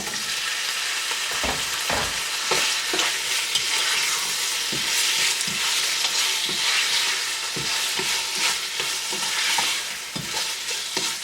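Chicken pieces frying over high flame with softened onions, a loud close sizzle with repeated spatula scrapes and stirring knocks against the pan, continuous and without voices.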